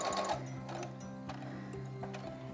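Sewing machine stitching through fabric and Velcro on a clear-window face mask, a steady close mechanical whir with rapid needle clatter throughout, no talking.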